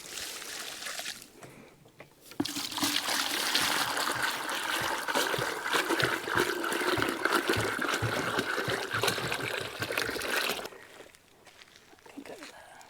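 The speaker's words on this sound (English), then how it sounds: "Top up your water." Water poured from a container to top up drinking water for backyard chickens on a homestead, a steady broadband splashing and trickling that runs for about eight seconds, then stops, with quiet outdoor surroundings before and after.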